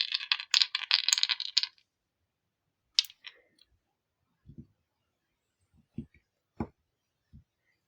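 Small cast resin skulls rattle and clatter together in a cupped hand, a dense burst of clicking followed by a few scattered individual taps and knocks, close and otherwise quiet.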